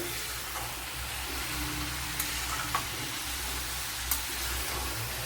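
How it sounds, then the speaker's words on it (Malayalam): Gooseberry pickle sizzles steadily while being stirred in a frying pan, a continuous close hiss with a few faint scrapes and clinks of the spoon, no talking. "ഇത് നല്ലവണ്ണം ഒന്ന് ഇളക്കി കൊടുക്കണം"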